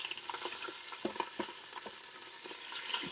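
Beef short rib searing in a hot pan, a quiet continuous sizzle broken by several short spitting pops and scrapes as the meat is turned, no voices.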